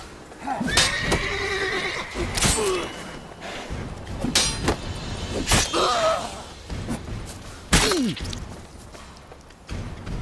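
Horses in a video game neigh and whinny loudly several times, mixed with hoofbeat clip-clop, whooshes and impact sounds of a fight, with some voices among the din.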